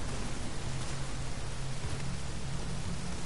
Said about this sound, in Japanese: 現実でも雨の音がするなと思ったら本当に雨降ってた